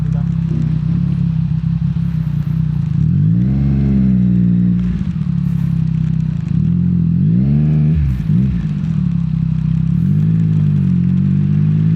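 Yamaha XSR900 motorcycle ridden on a wet track, its engine droning loud and close with repeated rising and falling revs through gear changes, over rushing wind.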